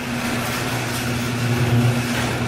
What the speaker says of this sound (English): you probably can't hear me because the garage door is so noisy